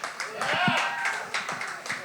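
Audience clapping for a poet at a poetry slam anniversary event, a scattering of claps with voices talking over them throughout.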